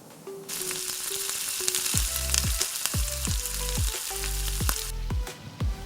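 Chicken lollipops frying in hot oil for a chicken lollipop recipe, a steady close sizzle and crackle running throughout with repeated low clunks of stirring, no talking.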